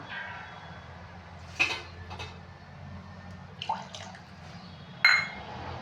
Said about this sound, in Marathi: थोडंसं पाणी टाकायचं